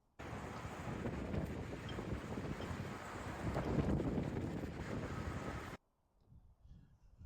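Strong wind at the Oklahoma State Capitol in Oklahoma City buffets the microphone in a loud, continuous rush for several seconds, then cuts off abruptly to near quiet.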